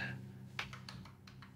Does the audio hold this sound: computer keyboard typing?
yes